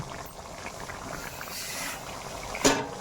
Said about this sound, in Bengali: একটু আমি গরম জল এর মধ্যে ঢেলে দিচ্ছি আলুগুলো সিদ্ধ হওয়ার জন্য।